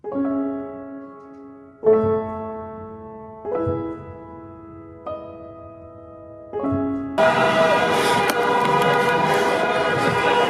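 A horn blares in five separate honks, then a noisy wash of crowd roar and cheering takes over, loud and sustained, as fans celebrate a World Cup win.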